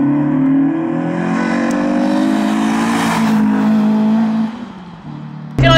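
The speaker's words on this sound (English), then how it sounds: "it is still gets you in the ear holes, that exhaust note" A modified, cammed Renault Clio 182 making 194 bhp lets out a loud, raspy exhaust note from inside the car, holding steady revs before easing off, followed by a sharp burst at the very end.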